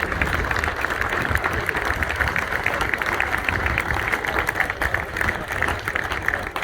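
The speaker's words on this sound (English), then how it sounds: "Round of applause for the second year boys." An audience at a football academy presentation day applauds the graduating second-year boys, with dense, sustained clapping that stays loud and steady from start to finish.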